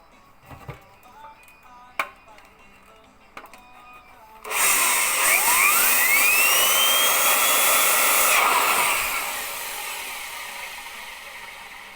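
A small tractor's ball-bearing turbocharger spins up with a rising whine and steady whoosh for several seconds, then fades, after a few light knocks and clicks.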